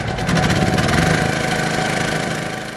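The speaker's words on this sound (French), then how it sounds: "Le groupe électrogène ronronne." A steady generator engine hum runs throughout, loud and close, running at full power, with a rough mechanical drone and no voices.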